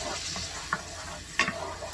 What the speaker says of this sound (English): Get ready for the sizzle.